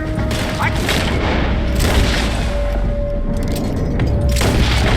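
Gunfire and booms in a Red Dead Redemption 2 shootout, heavy continuous blasts and mechanical clatter filling the whole stretch, with voices shouting underneath.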